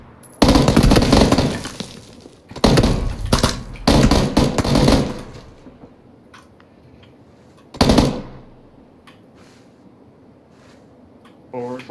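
Gunfire in PUBG, loud bursts of rapid shots in several clusters over the first few seconds, then one more burst after a pause, close and sharp, with a player's voice talking between the volleys.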